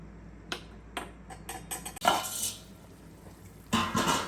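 A spoon clinks and scrapes against a pot as pakodas are stirred into mango curry, giving a series of sharp metallic taps and a few longer scraping strokes, close and fairly quiet with no talk.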